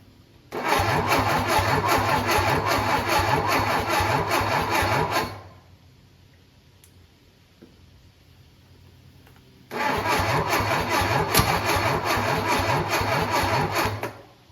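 An MGB parts car engine sitting on a shop floor cranks hard in two long bursts of about five seconds each, separated by a quiet pause, loud and close, without catching, and no one speaks.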